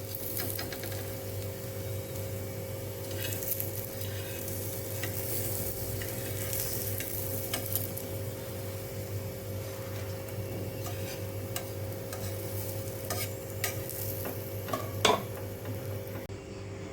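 Thin potato slices fry in a pan with a constant, even sizzle, punctuated by light ticks and scrapes of a utensil against the pan, close and alone.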